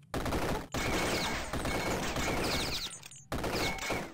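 Rapid, loud gunfire rattles in the Superfighter video game as dense bursts of shots follow each other closely. Brief gaps break the firing, and it comes back in a fresh volley near the end.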